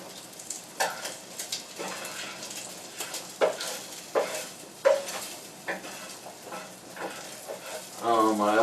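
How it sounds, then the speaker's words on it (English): Spaghetti carbonara ingredients sizzle and crackle in a hot frying pan while a utensil stirs and scrapes, with occasional clatters throughout. "can you hear the wonderful sizzling?"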